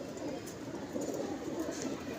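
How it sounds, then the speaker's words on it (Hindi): A Shar pigeon coos in a low, continuous murmur, close and soft, with a steady hum of background noise and no clear speech. "ये शार का कबूतर है, शार का।"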